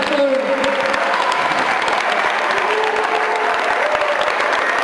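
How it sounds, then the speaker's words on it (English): Crowd at an anti-bullying rally at a Boys & Girls Club claps for the kids, a steady dense round of applause throughout with faint voices and a few cheers underneath. "Should give the kids a round of applause"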